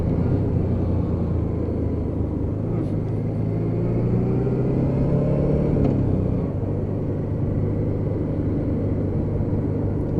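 A Honda Deauville motorcycle engine pulls through its gears while being ridden on the road. A steady, close, low rumble rises in pitch, drops with a gear change about midway, then carries on under constant wind noise.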